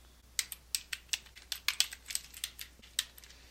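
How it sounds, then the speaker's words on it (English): Quick, light keystrokes on a computer keyboard, an irregular run of crisp clicks close to the microphone, alone and fairly quiet. "I'll type my question and the answers. And as I'm typing, people aren't seeing anything."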